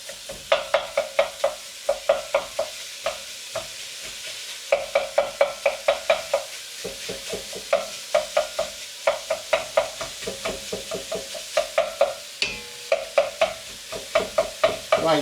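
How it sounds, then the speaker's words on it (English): Minced beef fries in a pan for chilli con carne while a meat masher repeatedly scrapes and pushes through it, giving a steady rhythm of close scraping strokes over a continuous sizzle. "cook this out until all the meat is browned and there's no pink meat left"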